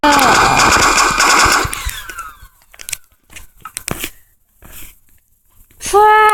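Rapid crackling bursts of explosions and gunfire from a Minecraft gun mod, loud and dense at first, then thinning into scattered pops and crackles, with a short squealing burst at the end and some faint voices.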